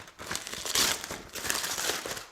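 Aluminium foil crinkles and rustles over cooked Texas-style pork, a close, bright crumpling in two or three bursts within a couple of seconds, with no talking.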